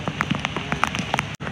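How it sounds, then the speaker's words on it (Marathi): Rain falls on a farm, scattered drops pattering irregularly on nearby surfaces in a short, fairly quiet burst with no talking. "पाऊस येतंय जातंय,"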